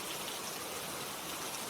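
Steady rain pours down on a stormy night in a horror cartoon, a dense, even hiss of falling drops that fills the whole moment with no voices.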